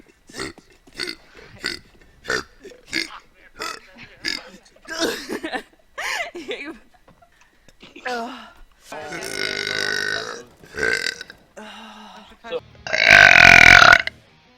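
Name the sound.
burping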